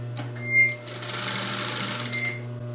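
A sewing machine runs steadily, stitching along the edges of a fabric grocery tote bag with a continuous close whir and a low motor hum, after a brief start-up bump.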